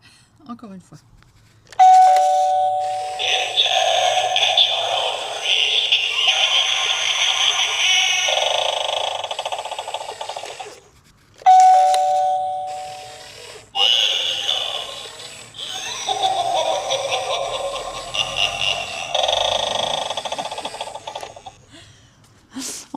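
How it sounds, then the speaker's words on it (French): A doorbell at a house being renovated rings twice, each ring a bright chime followed by a long buzzing electronic tone that fades before the second press, close and loud with no other sounds between. "Et est-ce que la sonnette fonctionne?"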